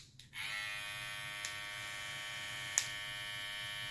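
A Babyliss FX Boost hair clipper switched on and running, giving a steady, close electric buzz with a sharp start and a couple of faint clicks.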